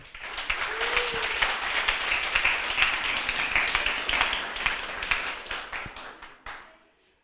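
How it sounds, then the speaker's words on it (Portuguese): An audience in a church setting applauds steadily for several seconds, a dense wash of many hands clapping at moderate loudness before tapering off and fading out near the end. "Palmas para nós."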